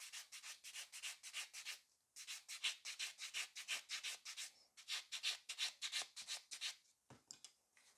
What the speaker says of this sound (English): Grey buffer, same 100 by 180 grit. And then smooth everything out in here.